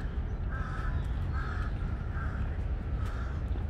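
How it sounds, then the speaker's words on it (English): Crows caw repeatedly in Lumpini Park, Bangkok, where they gather with monitor lizards around a caught fish. The calls come in four short bursts at a moderate distance over a steady, noisy outdoor background. "the commotion of the crows here"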